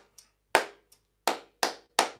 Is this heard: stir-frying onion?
no